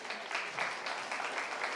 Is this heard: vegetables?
no